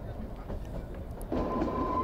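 Kalka–Shimla toy train climbing uphill, heard from inside the carriage as a low steady rumble with faint rail noise, growing louder and adding a sustained squealing tone partway through.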